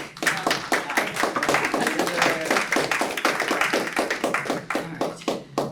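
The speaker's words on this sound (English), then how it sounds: "Also, Phil said applaud for me" A budget meeting group claps steadily, many hands in a loud, close, continuous patter of distinct claps lasting several seconds.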